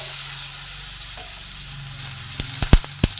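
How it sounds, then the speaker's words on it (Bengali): Potatoes fry in mustard oil in a wok, opening with a steady, soft sizzle before louder crackling spits and pops burst in toward the end. "কড়াইতে সর্ষের তেল দিয়ে নিয়েছি কিছু আলু দিয়ে আলুটা প্রথমে ভেজে নেব"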